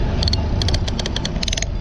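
Rapid clicking from the pawls of a Lewmar 58ST electric winch, a quick series of light metallic ticks over a low rumbling hum.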